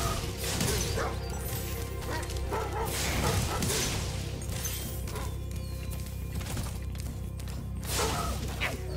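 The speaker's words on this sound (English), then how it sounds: "Just because of the dogs." Dogs bark and yip repeatedly in the video game Spyro Reignited Trilogy, mixed with crashes and thuds over steady game music and effects.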